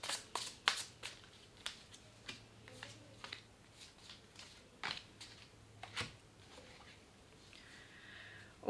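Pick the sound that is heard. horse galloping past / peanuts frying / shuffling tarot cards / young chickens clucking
shuffling tarot cards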